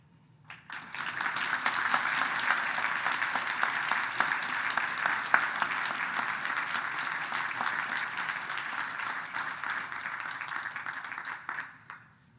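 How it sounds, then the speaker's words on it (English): Sustained audience applause at a 2021 gala honoring award recipients, a dense wash of many hands clapping that swells quickly, holds steady for about ten seconds, then fades out. "A round of applause for all of our honorees tonight."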